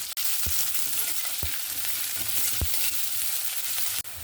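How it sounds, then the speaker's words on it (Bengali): Chopped onions frying in oil with garlic in a pan, a dense continuous sizzle up close with a few soft low knocks from stirring scattered throughout. "পেঁয়াজটাও সুন্দর লাল লাল করে ভাজা হয়ে গেছে"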